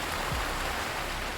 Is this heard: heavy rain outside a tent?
yes